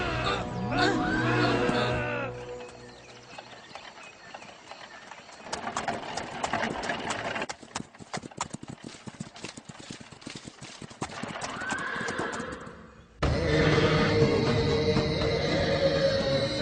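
A horse in an epic Ramayana film scene gallops with rapid rhythmic hoofbeats and whinnies, amid dramatic music and scattered shouting voices, the hooves growing loud near the end.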